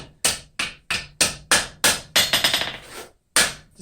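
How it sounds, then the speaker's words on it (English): Light, ringing hammer taps planishing copper, about a dozen in a quick steady rhythm with a brief rapid flurry near the end, close and clear. "planish out all these hammer marks. Very light hammer blows."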